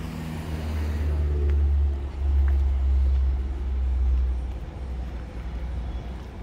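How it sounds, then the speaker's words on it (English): Buses and other traffic rumble past on a street in Los Cristianos, Tenerife: a loud, deep engine drone that swells and fades in several waves as vehicles pass nearby, with no talking. "You see a lot of buses that go by here as well."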